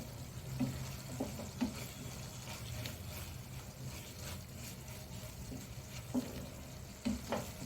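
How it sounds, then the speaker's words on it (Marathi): Spinach paneer gravy bubbling and frying in a pan while being stirred, a low, faint sizzle broken by occasional spoon clinks and spattering pops, with no talk. "सतत आपण असं जरा ढवळत राहायचं आहे, कारण ते उडतं अंगावरती म्हणून"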